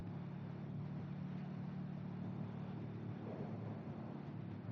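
Restricted Suzuki SV 650 motorcycle running with a steady low engine drone and even, continuous hum, fairly quiet and unchanging with no voices over it.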